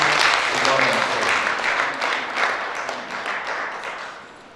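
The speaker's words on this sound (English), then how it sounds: "Please, a round of applause to God." Audience applause at a public lecture inaugurating a centre for security studies, a broad, steady wash of clapping from a large crowd that fades gradually over several seconds.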